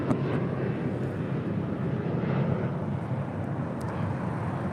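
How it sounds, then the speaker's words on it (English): A Boeing 737-800 airliner of Aeromexico, arriving from Guadalajara, touches down on the south side runway at LAX, giving a steady broad rumble of engine and roll noise at moderate distance throughout. "Aeromexico flight 782 coming in from Guadalajara, 737-800, landed here on the south side"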